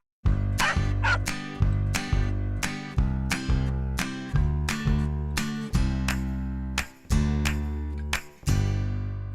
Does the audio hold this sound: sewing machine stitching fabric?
no